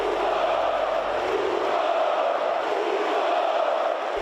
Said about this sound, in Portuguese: a torcida do Flamengo já estava provocando muito o goleiro por causa da falha